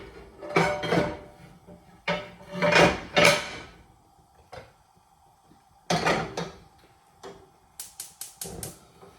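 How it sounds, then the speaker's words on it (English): Baking trays being slid into a home oven in a kitchen: sharp metallic clanks, scrapes and a door clunk in irregular bursts, close and loud, ending in a quick run of clicking rattles. "Maybe I can put those in on the oven already."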